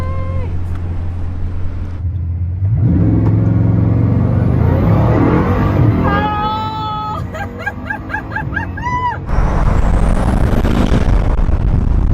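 A Bugatti Chiron Pur Sport engine revs hard and loud, rising and falling in pitch over several seconds with rumbling, strained surges and brief whining tones between them.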